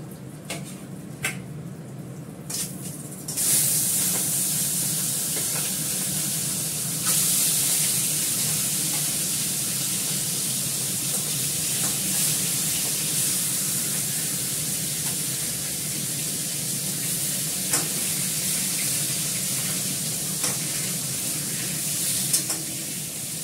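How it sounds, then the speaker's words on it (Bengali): Fish frying in hot oil in a wok gives a steady, loud sizzle and hiss that runs nearly without a break, after a few brief clatters at the start. "কড়ার তেল তেতে গেছে। এবার মাছটা ভাজবো, আর মাছটা ভেজে নেব।"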